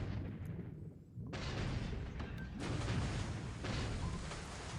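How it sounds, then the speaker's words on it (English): A Japanese submarine fires on a destroyer in the World War II strategy game War in the Pacific: deep, rumbling booms of a naval combat sound effect that come in several heavy bursts over a constant low roar. "I-28's firing at a destroyer now."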